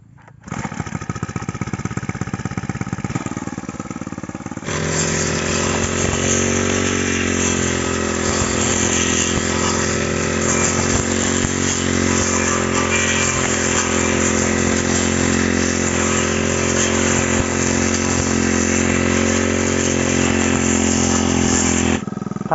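A small Chinese four-stroke brush cutter fitted with a 16-inch blade idles, then revs up to a steady high whine, loud and close, running continuously as it cuts through grass.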